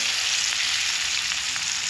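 Onions sizzle as they fry in a pan, a continuous bright crackling hiss heard close up and steady in level, with no voices.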